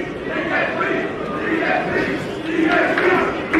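A boxing crowd cheers and shouts for Musa at a Bolton fight night, a dense, loud, continuous roar of many voices that swells near the end.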